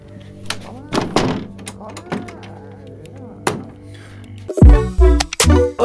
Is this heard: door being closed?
yes